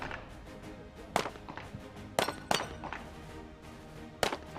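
Sniper at the top of a tower at a SWAT challenge struggling to seat a rifle magazine, several sharp metallic clicks and knocks spaced irregularly over a low background murmur.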